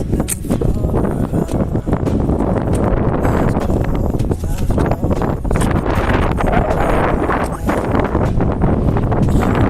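Strong wind roars continuously against the microphone, a loud low rumble with scattered rustling and faint voices beneath it.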